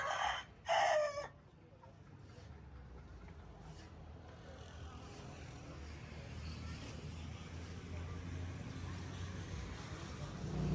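Chickens cluck and a rooster crows briefly near the start at a poultry shop, followed by a steady murmur of shop background noise and distant traffic.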